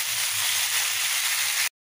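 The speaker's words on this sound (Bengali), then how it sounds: "এখানে পেঁয়াজ আর রসুন যে ভেজে নিয়েছি, এখন আমি সিদ্ধ করা সবজিগুলো ঢেলে দেবো" Boiled vegetables hit hot oil that already holds fried onion and garlic, setting off a steady, loud, close hiss that runs unbroken and then cuts off abruptly, with no talk.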